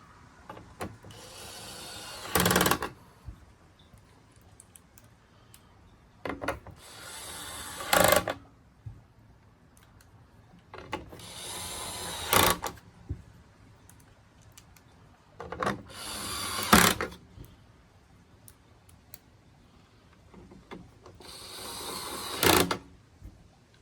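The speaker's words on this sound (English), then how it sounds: "Get this lined up, get it fully seated, and then we'll put these 6 screws back in." A DeWalt Extreme subcompact screwdriver drives small screws back into a device, sounding as five separate short whirring bursts spaced a few seconds apart, each ending in a tightening buzz, quiet and close with near silence between.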